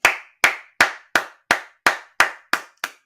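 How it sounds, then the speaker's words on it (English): Nine crisp hand claps in a steady, evenly spaced rhythm, each sharp and close with a short ringing tail, heard alone without talk. "Never trust a man who claps with straight hands like that."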